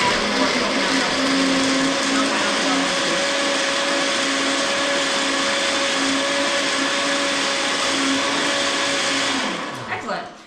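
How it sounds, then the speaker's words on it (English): A blender blends blueberries with coconut milk in one steady, loud whirring run for about nine seconds before cutting out and spinning down. "just blend it with the blueberries to see what kind of consistency we'll get from it"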